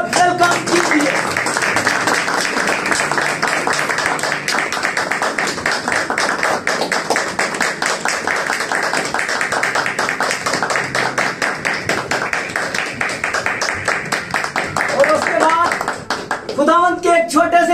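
A church congregation claps steadily in dense, continuous applause welcoming a speaker, sustained for the whole stretch before fading near the end.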